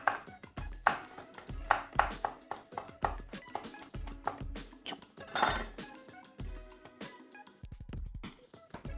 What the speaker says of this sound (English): just gonna slice a few little bits of red chili